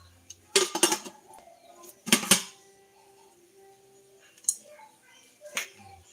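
A utensil stirs leftover food in a metal cooking pot at a provincial home kitchen, making a few loud scraping clanks in separate bursts with quiet gaps between.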